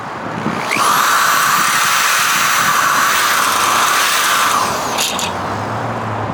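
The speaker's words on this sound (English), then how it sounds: "I'm going to take my self-tapping screws that came with all the mount hardware and just run them in" A power driver whines steadily as it runs self-tapping screws into metal fence panel mounts, a loud, close motor tone that holds for several seconds before releasing with a short rattle, no talking.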